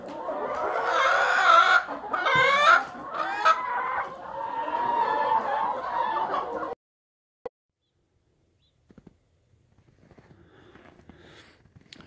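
A rooster and hens on an organic farm cluck loudly and busily for several seconds, up close, then fall almost silent apart from a sharp knock, with faint scattered noise returning at the end.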